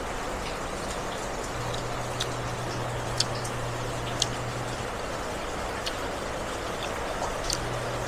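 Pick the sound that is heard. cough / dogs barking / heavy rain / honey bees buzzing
heavy rain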